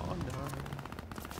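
Rapid machine gun fire in the video game Call of Duty Vanguard rattles in a fast, continuous burst at moderate distance, blended with dense game noise and a voice in the background.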